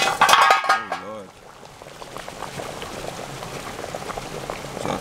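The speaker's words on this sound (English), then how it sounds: "look at that bubble, nice man" Okra soup bubbling in a pot over an outdoor fire by a river, a steady soft simmer of popping bubbles throughout, with a voice briefly heard near the start.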